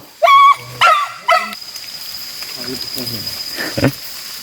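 A dog gives three loud, close, separate barks, followed by quieter yips and whimpers while someone talks over it.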